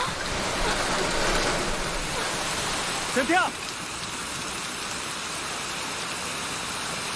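Steady rain falls as an unbroken hiss throughout an unseasonal shower, with a brief shout of a name partway through.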